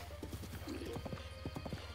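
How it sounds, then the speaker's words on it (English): Horse hooves clip-clop at a steady gallop while riding in the video game Zelda Breath of the Wild, a fast rhythmic run of hoofbeats over a low game-music bed, with a brief whinny partway through. "horse riding is so much faster"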